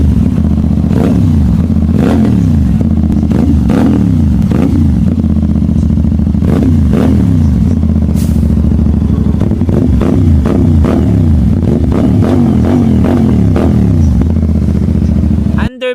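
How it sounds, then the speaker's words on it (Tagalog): CFMoto 450SRS motorcycle fitted with an R11 Shorty 51mm aftermarket underbelly muffler, revving loudly and close in repeated throttle blips that rise and fall throughout, with a voice talking underneath. "kinabitan natin ito ng aftermarket na muffler na siguradong maririnig ka habang nasa biyahe"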